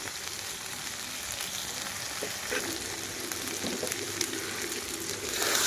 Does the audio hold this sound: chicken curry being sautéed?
yes